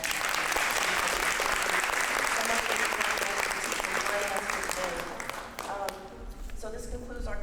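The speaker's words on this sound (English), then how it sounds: "can we give him another round of applause for that?" Loud, sustained applause from an audience after a presentation fills the room, then thins out and tapers off toward the end.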